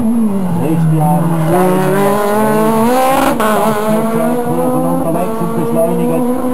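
A race car at a slalom event in Frauenfeld revs hard while accelerating, its engine note climbing and dropping through the gears, loud and continuous throughout.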